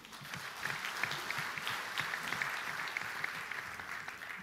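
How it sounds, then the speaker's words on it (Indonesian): A large audience at a political rally applauds in a continuous, even roar of clapping, heard somewhat distant and soft, with no voice over it. "Tepuk tangan dulu."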